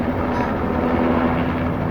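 A hospital helicopter flying overhead gives a steady, droning rumble with a constant low hum, sustained and fairly loud throughout, with no voices.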